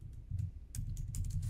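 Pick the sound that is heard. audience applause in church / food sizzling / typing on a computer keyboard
typing on a computer keyboard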